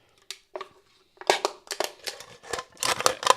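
Scissors cutting open a plastic-lined can, a quick series of sharp metallic crunches and snips, close and irregular, starting sparse and then coming in dense bursts.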